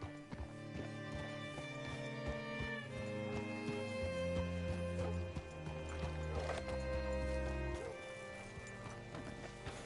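Steady clip-clop of hooves with a horse whinnying in the video game Red Dead Redemption 2, set against a continuous musical backdrop, loud and close throughout.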